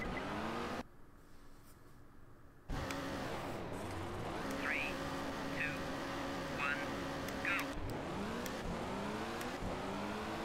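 A rally car engine in Colin McRae Rally 2.0 revs and drops in pitch again and again as gears change, steady and close, with talk over it and a short muffled break early on.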